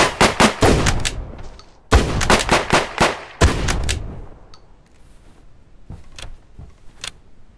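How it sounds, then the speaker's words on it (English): Gunfire in the survival shooter Deadside: a rapid burst of loud, close shots in the first seconds, another string around two to four seconds, then scattered fainter distant reports trailing off. "I just missed like 5 shots on him"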